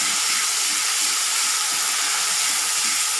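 A spoonful of onion hitting a hot pan while cooking dhaba-style green pea kachori filling, giving a loud, steady, dense sizzle and hiss that continues without a break.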